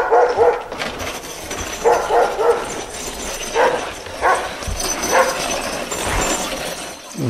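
Baikal sled huskies bark in repeated bursts, several dogs yapping and whining close by against a steady noisy background, with no speech.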